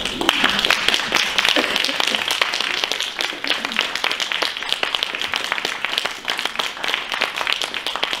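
Audience applause fills a concert lecture hall, a dense, steady wash of many hands clapping throughout at a close, even loudness.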